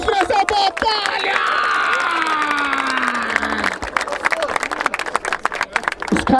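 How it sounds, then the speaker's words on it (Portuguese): Crowd at a freestyle rap battle final in Barueri, São Paulo, erupts in loud cheering and shouting with clapping, voices rising together for several seconds before breaking into scattered claps and chatter. "Palmas pra essa batalha!"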